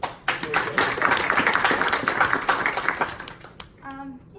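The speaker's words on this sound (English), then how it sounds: "please let's give a round of applause" An audience at a talk on changing government policy bursts into a few seconds of dense clapping that fades out, followed by a voice beginning to speak.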